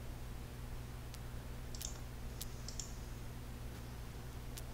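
A few sharp mouse clicks on a computer's verify button, sparse and faint over a steady low electrical hum, with no talking.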